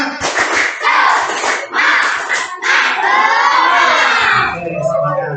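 A group of schoolchildren in a physical education class loudly chants and claps a rhythmic spirit cheer, several bursts of shouting and clapping in quick succession, close and energetic.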